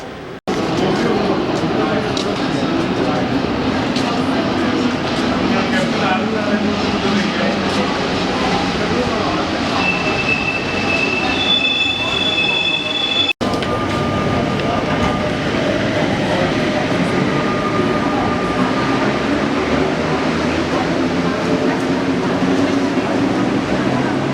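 A metro train running on rails in France, a loud continuous rumble with clattering wheels and thin high squeals rising and fading partway through, the ride unbroken from start to end.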